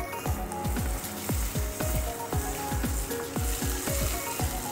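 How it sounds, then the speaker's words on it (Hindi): Cumin seeds and finely chopped green chilies sautéing in two tablespoons of oil, a steady close crackling sizzle with many quick repeated pops and spoon knocks throughout, no talk. "ऑयल डालेंगे 2 टेबलस्पून, 1 टीस्पून जीरा सौते करेंगे, 2 बारीक कटी चिलीज डालेंगे"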